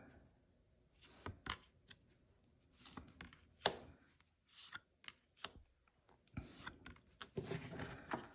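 A sticky-textured tarot or oracle deck being shuffled by hand: soft, irregular rubbing and flicking bursts that come and go, quiet and close with no voices.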